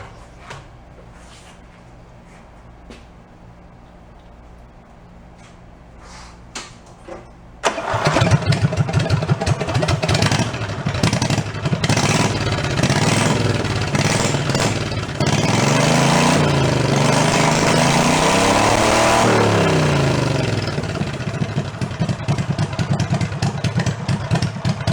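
Big go-kart engine with a freshly welded setup starting up after a quiet stretch of faint clicks, then loud steady running and revving close by for over fifteen seconds, no talking.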